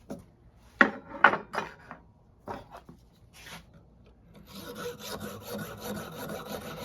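Hand saw cutting through the fiberglass layer of a bow limb while rough shaping a Howard Hill American longbow, heard as a few sharp rasping strokes early on, then a steadier, brighter scraping texture toward the end.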